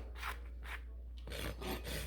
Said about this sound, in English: The angle of your rasp is more perpendicular.